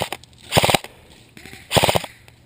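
An Elite Force M27 IAR airsoft gun fires outdoors in a forest game. Two close, rapid bursts of snapping shots come about a second apart, with quieter background noise between them.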